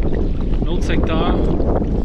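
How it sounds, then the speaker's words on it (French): Strong wind roars steadily across the microphone while kayaking on a lake in Charlevoix, a constant loud buffeting rush with water sounds mixed in and no break throughout. "Très venteux ici."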